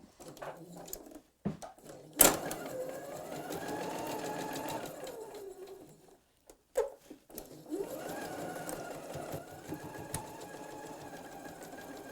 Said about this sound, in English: It's just a standard 1/4 inch seam allowance here